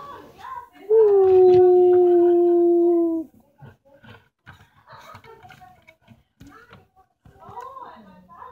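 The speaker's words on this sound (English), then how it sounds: "Oh no, look out, the dog!" A dog lets out one loud, sustained howl of about two seconds near the start, then quieter barks, yips and voices follow in a busy indoor scene.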